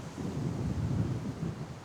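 Loud, steady wind of a dust storm buffeting the microphone with a low roaring rumble, continuous and close throughout, on a disc golf course in Dalhart, Texas.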